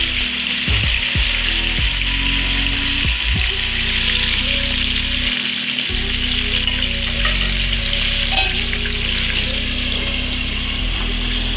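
Fish sizzle in hot oil in a pan, a loud continuous crackling fry with a low background hum and occasional soft knocks, with no voices heard.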